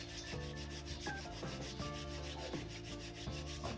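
Wooden hand drill spindle spun against a fireboard for friction fire, close rhythmic rubbing and grinding strokes that repeat steadily for a few seconds, with no voices.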